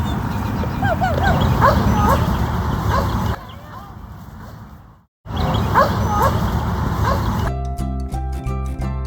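Dogs at a dog daycare bark and yip repeatedly, close and busy, with a brief quieter gap and a short silence before a burst of music ends it.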